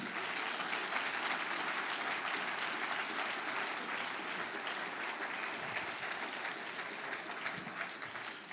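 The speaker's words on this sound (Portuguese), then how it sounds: "Aplauda forte" A congregation at a Quadrangular church service applauds loudly in a long, continuous roar of clapping, steady throughout and heard from within the crowd.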